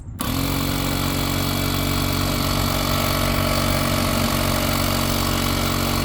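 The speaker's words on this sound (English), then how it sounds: "There's a pump, turn it off." An electric car jack's pump motor starts abruptly and runs at a steady, loud, even hum with no pauses or talking.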